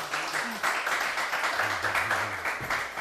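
A studio audience applauds steadily as the guest Ercan Demirkören is welcomed onto the stage. The even, sustained clapping lasts about three seconds, with a voice faintly audible underneath.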